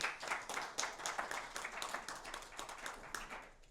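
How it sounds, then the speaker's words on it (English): A small audience clapping at the close of a forum talk, distinct individual hand claps rising into a brief, fairly quiet patter that tapers off. "before we get a clap"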